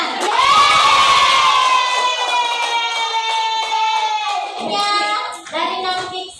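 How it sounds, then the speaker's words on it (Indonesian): Children in a classroom clap and shout together, a loud sustained burst of high voices over hand claps lasting about six seconds. "tepuk tangan."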